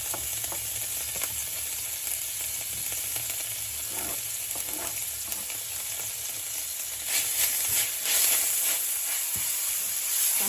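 Red and white onions with a sprig of thyme sauté in butter in a pan, giving a steady close sizzle that swells a little louder near the end, with no voices.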